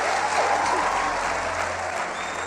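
Steady audience applause fills a motivational speaking event, a dense sustained wash of clapping at even loudness throughout with a faint voice or whoop briefly rising above it.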